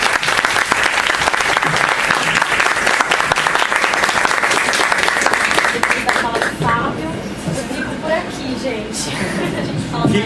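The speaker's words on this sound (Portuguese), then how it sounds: "pedir uma salva de palmas para você" Audience applauding at a talk on urban eating habits and hunger in Brazil, dense steady clapping throughout, loud and close, thinning slightly toward the end.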